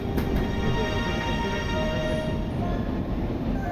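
A train runs along the railway in the rain at Karkhana Bazar, Gazipur, giving a steady, loud, dense rumble and rushing wash that holds unbroken for about four seconds with no voices.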